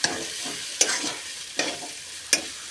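Vegetable mixture for homemade vegetable chops being stirred in a frying pan, with four scraping strokes of the spoon spaced about a second apart over a steady soft sizzle.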